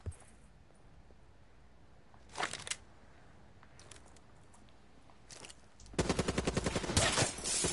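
Shotgun blasts in Call of Duty Black Ops 3, a couple of separate booming shots early on and then a louder run of rapid gunfire near the end, with no talking.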